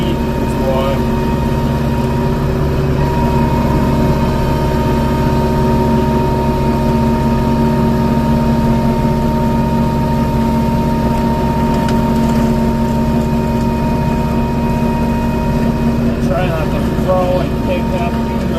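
A Korean-made tractor's engine runs steadily in Texas heat while brush hogging and clearing small trees, a continuous low, rumbling drone holding even loudness throughout with some faint talk over it.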